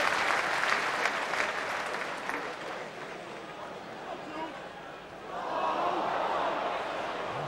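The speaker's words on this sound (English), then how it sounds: "And applause for Simon Grayson." A football crowd at a 1994/95 Leicester City match applauds a player, a broad stadium roar of clapping and cheering under a commentator's voice, dipping midway then swelling again.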